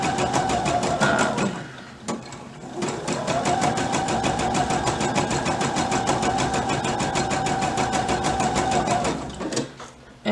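A sewing machine stitches fabric guided along the presser foot, giving a close, steady whirring hum with rapid needle ticking, briefly stopping around the two-second mark before running on.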